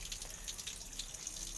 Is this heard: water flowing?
yes